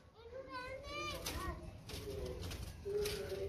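Pigeons coo and flutter near a rooftop pigeon loft, soft bird calls mixed with children's voices and chatter, fairly faint and overlapping the talk.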